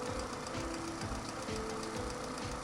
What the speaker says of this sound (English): it's a sweet sounding little engine